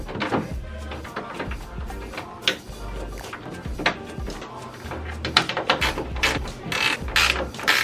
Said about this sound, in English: and just start putting your screws on it.